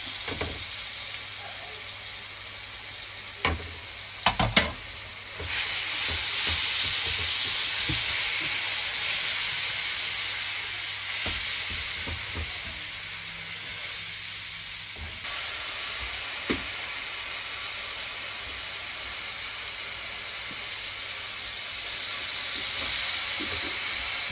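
Dates halwa roasts in a pan with a loud continuous frying sizzle and hiss, a few sharp knocks and scrapes of stirring early on, then a steady close sizzle with no talk.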